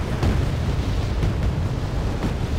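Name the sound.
artillery explosions in Wargame: Airland Battle video game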